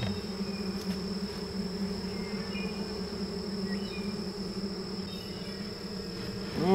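Honey bees hum steadily inside an opened horizontal hive, a continuous low buzzing drone close by, with occasional louder passes of individual bees and no talking.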